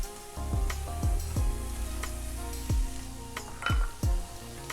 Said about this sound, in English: Then you can reduce the temperature of your pan and add the butter